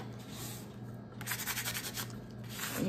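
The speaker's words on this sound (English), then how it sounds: "just take your squeegee and run" A squeegee is pressed and rubbed over vinyl lettering on transfer tape for a water tracker, giving a steady, close scraping rub with several quick back-and-forth strokes and no talking.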